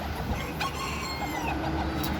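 A pure Sirama bantam rooster crows once, a short, fairly faint call over a low rumbling background, with no talking.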